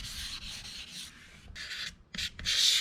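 Wet sanding of primer on a G35 street car body panel with 600 grit sandpaper, a steady back-and-forth rubbing scrape in several close strokes with brief pauses between them.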